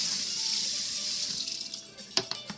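Running tap water splashes over a potato being washed by hand in a kitchen sink, a steady close hiss that thins out toward the end, with a few sharp knocks and splashes near the finish.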